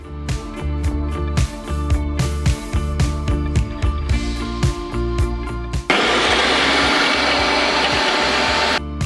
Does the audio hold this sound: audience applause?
no